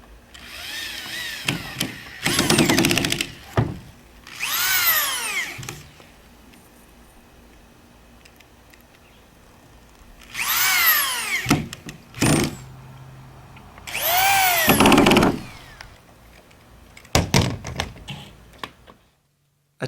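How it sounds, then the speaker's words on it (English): A power drill drives 1-inch screws into plywood in several separate bursts, each rising in pitch as a screw spins in and then stopping, with quiet gaps between. "attach it to the plywood using 1-inch screws"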